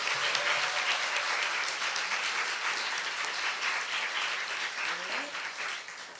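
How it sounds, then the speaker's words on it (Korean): Audience applause for high school teachers at a school academic festival, steady dense clapping from a sizable crowd filling the room, sustained for several seconds and slowly tapering, with faint voices underneath. "고등과정 선생님들 위해서도 큰 박수 한번"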